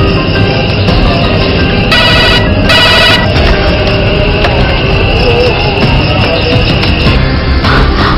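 A telephone rings on an outgoing call, a repeated ringback tone in two bursts over a loud, dense background of insect-like chirping and noise.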